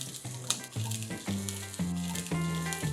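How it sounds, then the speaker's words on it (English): Potatoes, cauliflower florets and cubed carrot fry in a pan, giving a steady close sizzle with occasional stirring clatter, while a low musical tone plays underneath. "We will be frying them lightly for 3 minutes."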